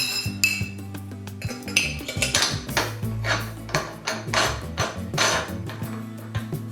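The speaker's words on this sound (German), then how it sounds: "So, jetzt benutzen wir eine andere Tülle." Nozzle on a sausage stuffer being swapped for a bratwurst casing tube while making wild boar salami, with a series of close metallic clinks, clanks and knocks in an irregular rhythm.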